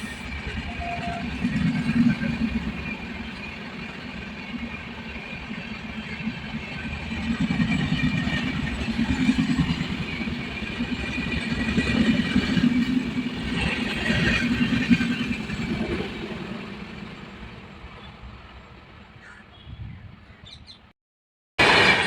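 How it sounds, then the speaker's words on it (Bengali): Guwahati-Kolkata Garib Rath Express train running past on the line, a steady loud rumble and clatter of wheels on rails that swells and fades over about twenty seconds before cutting off abruptly. "লাইন দিয়ে ছুটে বেরিয়ে যাচ্ছে বারো হাজার পাঁচশো আঠেরো গুয়াহাটি কলকাতা গরিবরথ এক্সপ্রেস"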